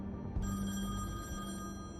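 A telephone rings in the video game The Wolf Among Us, a steady electronic bell tone that starts a moment in and continues over a low background hum, moderately faint, with no speech over it.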